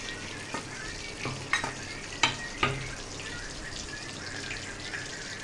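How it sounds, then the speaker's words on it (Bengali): An onion and garlic paste hits hot oil for chilli chicken, producing a soft, low frying hiss with a few sharp spits and crackles near the middle. "এইবারে এই তেলে পেস্টটা দিয়ে দেওয়া হলো।"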